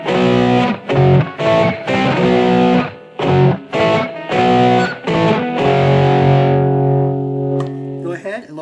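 A distorted electric guitar through a Boss eBand JS-10 with a signature tone plays a stop-start hard rock riff of punchy chords with reverb tails, finishing on a long sustained chord.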